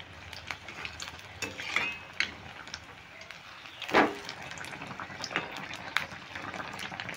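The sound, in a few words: frying capsicum chops in oil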